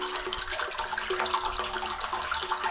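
Water pours onto fresh concrete inside a tire tank waterer, a soft continuous splashing and trickling at moderate distance, fairly quiet and unbroken, no talk.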